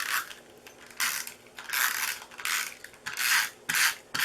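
A snail adhesive tape runner is pressed along a card base in short, rasping strokes. About eight separate scratchy bursts come with quiet gaps between them, close up and with no talking.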